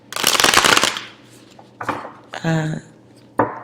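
Angel cards being shuffled by hand, with a long dense riffle of papery flutter followed by a few shorter card bursts and a final snap, heard close and alone.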